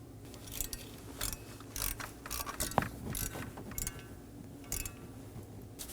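Mounting bolts being snugged down on a high-pressure fuel pump of a 2018-2024 Chevrolet Equinox 1.5L L4, giving light intermittent ratcheting clicks and metallic taps, close up, with one sharper click near the middle.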